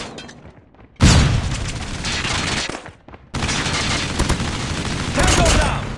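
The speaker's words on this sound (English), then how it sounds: "Watch out! Flashbang!" Loud blasts and sustained heavy gunfire during a Call of Duty Mobile match in the Killhouse map, with a hard onset, a brief lull, then continuous roaring noise.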